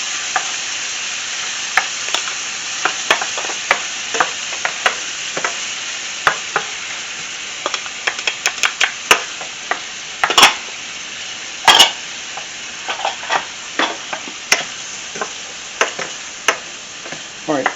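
Shrimp frying with crushed red pepper in a hot pan, a steady close sizzle broken by frequent sharp clicks and scrapes of a utensil stirring against the pan.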